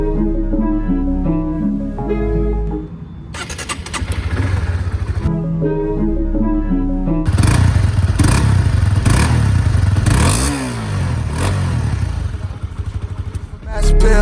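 A sport motorcycle, a 2022 Honda CBR150R or Yamaha YZF-R15M V4, cranks and fires up, then idles and revs with a loud, close, buzzing engine note.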